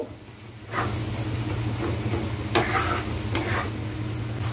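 Onions frying in oil for a loitta fish recipe with tomato and green chilli, a close sizzle with several sharp spatula stirs and scrapes, no voices heard.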